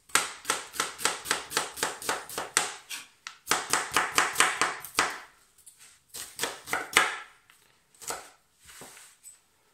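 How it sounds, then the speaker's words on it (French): An onion is sliced on a cutting board for homemade pizza, a knife striking the board in quick, even runs of chops with short pauses between bursts, close and clear with no talking. "je prends ma planche à découper, mon oignon et je l'émince"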